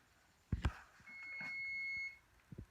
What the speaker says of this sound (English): Oh, that's my timer going off. It means the bread is done baking.